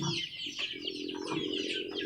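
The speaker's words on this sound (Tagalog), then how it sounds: "Maraming manok sa baba oh." Several chickens cluck and chatter close by at a rural countryside yard, overlapping calls in a busy, continuous flock noise with no one talking.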